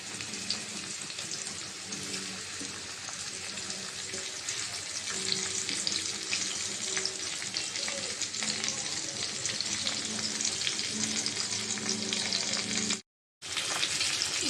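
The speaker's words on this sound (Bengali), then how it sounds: "মাছটা হলুদ মরিচ মেখে নিয়েছি, তেলটাও গরম হয়ে গেছে। মাছটা এখন দিয়ে দিব" Nola fish coated in turmeric and chili sizzles steadily in hot oil, a dense, even crackle that holds close and loud for the whole stretch, broken only by a brief silent gap near the end.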